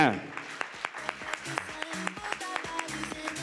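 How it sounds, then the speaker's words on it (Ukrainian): Applause from the audience after the dance show «Весна» at a Pro-Am Awards event: scattered, light claps heard under voices and tonal, music-like sounds, fairly thin rather than a full ovation. "Ваші оплески."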